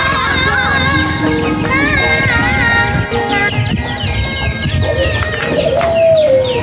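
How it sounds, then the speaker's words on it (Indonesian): Dense bird calls and cooing from caged doves fill a busy Indonesian village scene, with a low, steady murmur of activity throughout and a rising call near the end. "Ternyata di kandang ini ada suara burung berenggolo juga"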